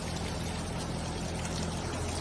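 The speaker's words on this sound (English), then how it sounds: "you're totally fine to just hose down the coils and just cool them off" A garden hose sprays water onto the coils of an outdoor HVAC condenser unit, giving a steady, loud, unbroken rush of water throughout.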